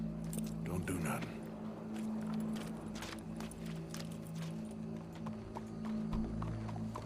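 Horse hooves clip-clop at a steady walking pace over a low hum and background ambience in Red Dead Redemption 2, fairly close and moderately loud.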